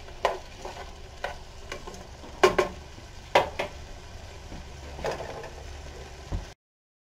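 Food cooking in a pan, a steady sizzle broken by sharp stirring scrapes and clatters of a utensil against the pan, close and fairly loud throughout with no talking.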